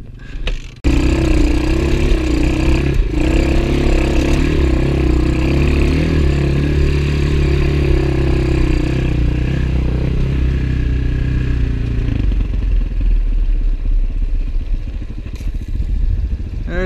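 A Gio X31 250cc dirt bike engine idles loud and close on a trail ride, a steady rumbling chug that shifts slightly in tone near the end.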